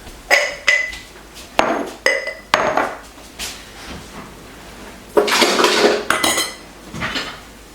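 Wide-mouth glass jars clink and knock together as they are gathered up in a kitchen, a run of sharp separate clatters followed by a longer jangling burst of glass on glass, close and fairly loud, with no talking.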